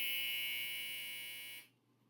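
A laundry machine buzzer holds a steady, moderately loud electronic tone for about a second and a half, then cuts off abruptly into near silence.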